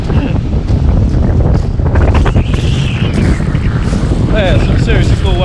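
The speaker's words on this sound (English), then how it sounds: "So windy!" Strong wind buffets the microphone at a beach with waves, a loud, continuous roar with gusty surges, and voices and other sounds come through faintly beneath it.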